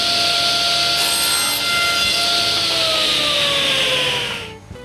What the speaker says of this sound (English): After, I make a round over at the end of a dowel and I cut it to length.